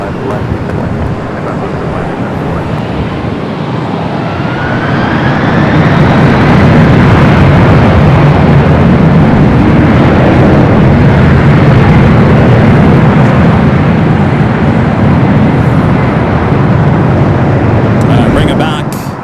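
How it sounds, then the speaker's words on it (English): A Boeing 777-300ER arriving on runway 25 left at LAX, a loud continuous jet roar that swells and holds steady for most of the clip before tapering slightly at the end. "Here's this flight coming in from Beijing at this 777 at 300ER. Runway 25 left."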